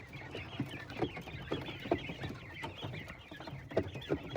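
Young chickens, about three weeks old, cluck softly in a low, scattered chorus of short repeated calls close by, with no talk over them.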